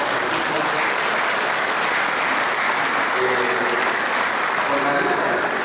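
Strong, sustained audience applause at an International Mother Language Day gathering honouring indigenous languages, a dense, even roar of many hands clapping throughout, with some voices mixed in.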